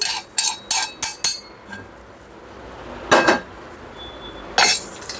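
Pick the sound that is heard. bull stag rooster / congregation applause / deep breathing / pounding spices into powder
pounding spices into powder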